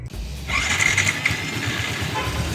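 A Yamaha Sniper 150 motorcycle engine runs throughout with a rough low rumble, joined by a brief higher whine that rises and fades.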